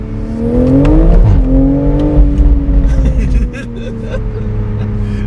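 A loud sports car engine rumbles and revs, its pitch climbing and settling in a steady, throaty drone close by.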